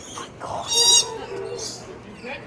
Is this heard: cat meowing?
no